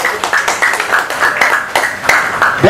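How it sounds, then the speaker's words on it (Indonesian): A room full of people clapping at a business talk event, the claps landing in quick, fairly regular bursts, close and moderately loud. "Semangatnya boleh tepuk tangan yang paling meriah untuk kita semuanya."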